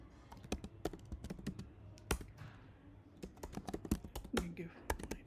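A password is typed on a computer keyboard, giving a quick irregular run of sharp, close key clicks over quiet room tone.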